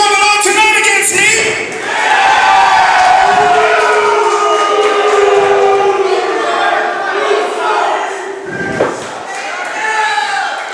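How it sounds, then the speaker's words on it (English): A large wrestling-event crowd reacts loudly and with displeasure, a dense continuous roar of voices with shouts rising and falling close by over about ten seconds. "Crowd not happy."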